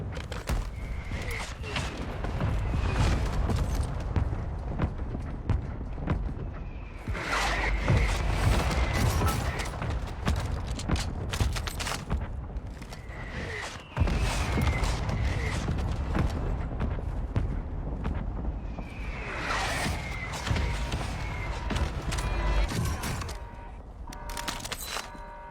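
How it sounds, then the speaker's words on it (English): Mortar strikes in a video game land as heavy, rumbling explosions that swell repeatedly over a dense, continuous roar of battle noise, loud and close throughout. "Mortar support incoming."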